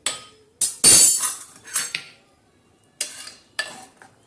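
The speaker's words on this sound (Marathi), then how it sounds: "अशी मस्त घरटून घ्यायची पळीने." A ladle stirs black urad dal in a pot, giving several sharp metallic clinks and scraping knocks in short bursts with pauses between, close and fairly loud, with no talking.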